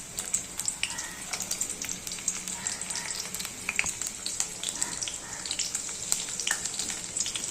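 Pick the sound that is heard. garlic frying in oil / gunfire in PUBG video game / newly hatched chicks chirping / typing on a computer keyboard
garlic frying in oil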